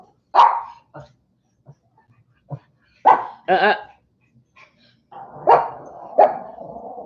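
A dog barks outside, sharp, separate barks in irregular bursts with short pauses between, fairly close and loud, with no talk over them.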